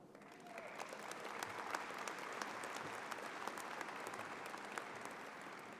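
Steady, dense applause from a large audience at a law school commencement ceremony, sustained evenly for several seconds, heard from a distance and fairly soft.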